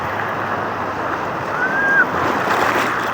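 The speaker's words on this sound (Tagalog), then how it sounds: "Sobrang lakas ng alon." Continuous rumbling surf with strong wind noise buffeting the microphone, waves rolling steadily with no clear breaks.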